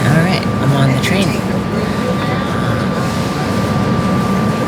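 Steady loud rumble inside a local transit train running between Philadelphia and Reading, with a constant high whine, continuous from start to end, and occasional voices under the noise.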